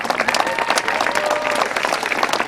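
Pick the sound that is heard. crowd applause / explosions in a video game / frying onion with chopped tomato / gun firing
crowd applause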